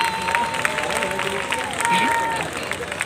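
An audience at a Karinthalakuttam 30th anniversary stage event claps in dense, sustained applause, mixed with voices and faint tonal sounds throughout.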